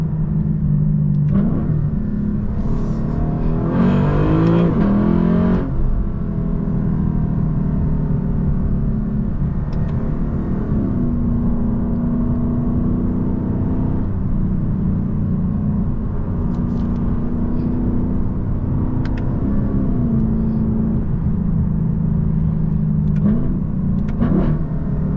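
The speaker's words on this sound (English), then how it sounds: "here's an example of driving around with the exhaust valves closed" A Lexus LC 500 with a valved exhaust cruises with the valves closed, giving a steady low, muted engine rumble, with a brief louder rev early on and continuous road noise throughout.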